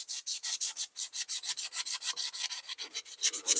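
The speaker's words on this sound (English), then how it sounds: "Just a little bit of sandpaper, nothing too rough." Fine sandpaper rubs metal contact surfaces on a 1973 British Seagull 40 outboard in fast, even back-and-forth strokes, about two dozen of them, close up with no voices.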